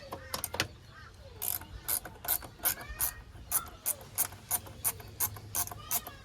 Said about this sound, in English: 10mm socket on my clamp here, so I will get that off